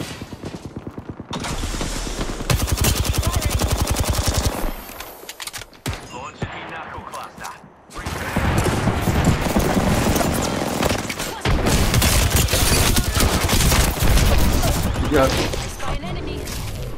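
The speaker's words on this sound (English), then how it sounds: "Joker's shooting at me." Rapid gunfire from enemy players in the PC shooter Apex Legends, dense bursts crackling through most of the stretch with a brief lull in the middle, loud and close, with a player talking over it.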